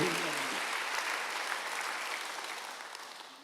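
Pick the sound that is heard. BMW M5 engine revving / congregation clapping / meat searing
congregation clapping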